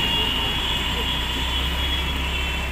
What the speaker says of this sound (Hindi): तो चलो स्कूटी लेके जा रहे हैं अभी